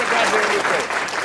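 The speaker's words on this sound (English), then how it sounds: "Let's give Silverado a round of applause for that." Applause from an audience during a post-game football discussion show, a dense steady wash of clapping lasting just over a second, loud and continuous with no voices rising above it.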